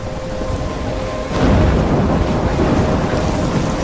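Thunderstorm in the video game Life Is Strange, heavy rain hissing steadily as a rolling rumble of thunder swells loudly about a third of the way in and continues under the downpour, with no talk.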